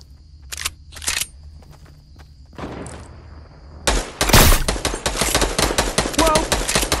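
Gunfire in a squad shooter video game: a few isolated sharp shots at first, then a loud, rapid stream of automatic fire with dense crackling bursts that keeps going to the end, with no talk.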